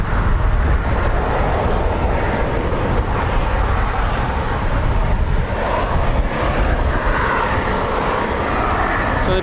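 Steady, loud roar of Eurofighter Typhoon FGR4 jet engines running up at the QRA station at RAF Coningsby, a continuous broadband rumble heard from fairly close with wind buffeting.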